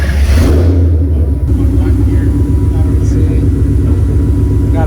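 A Ford Coyote V8 in a widebody swapped Mustang runs loud and close with a steady deep rumble, a brief rise in revs near the start, and no talk over it.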